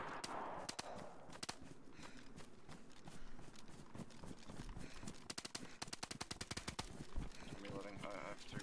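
Gunfire in a multiplayer video game, with rapid clattering bursts of distant-sounding shots, faint and mixed under a steady noisy bed, growing denser toward the end as people talk quietly.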